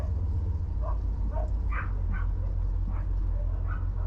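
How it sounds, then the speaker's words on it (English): Several dogs barking and whimpering at a distance outdoors, short yips scattered over a loud, constant engine rumble from a 1982 Ford Bronco with a 351W V8 idling nearby. "All the dogs are barking."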